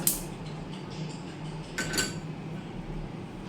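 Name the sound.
small pan placed on the stove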